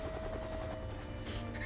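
A helicopter in the video game Disaster: Day of Crisis drones loudly and continuously, with a low rotor thump and a steady engine whine that dominate the short moment.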